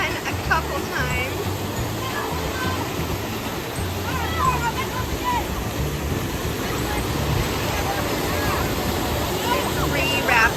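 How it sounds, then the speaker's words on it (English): Successive river rapids at McKinney Falls State Park rush with a steady, broad roar of churning water, constant and fairly close, with faint voices in the background. "At the end of the river, there's some rapids, which are really fun."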